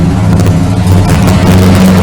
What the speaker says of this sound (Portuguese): passando um carro barulhento aqui